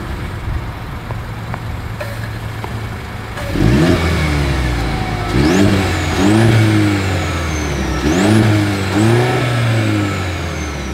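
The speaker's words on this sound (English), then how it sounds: "As always, here is that exhaust clip." A 2024 Mercedes-Benz GLC 300 Coupe engine idles, then revs sharply several times in succession, the exhaust note rising and falling loudly with no talking.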